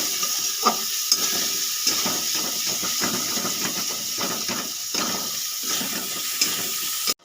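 Spice paste for a fish-head muri ghonto sizzles in a pan while a spatula stirs it, a loud continuous hiss broken by rhythmic scraping strokes, close up.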